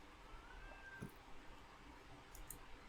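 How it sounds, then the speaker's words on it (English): A cat gives a drawn-out meow close by, followed by fainter brief sounds against a quiet background hum. "that cat's got a story to tell"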